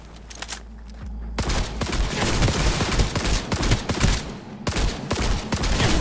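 Rapid gunfire from the Quasar gun in the video game Cyberpunk 2077, a dense run of loud, sharp shots with a brief quiet start, then sustained bursts and short gaps.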